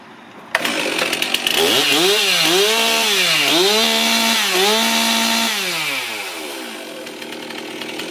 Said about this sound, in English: This chainsaw is a buzzer too.